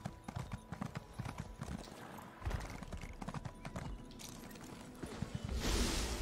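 Hoofbeats of a horse galloping in The Elder Scrolls Online, a rapid steady clip-clop rhythm running throughout, with a brief whinny-like burst near the end.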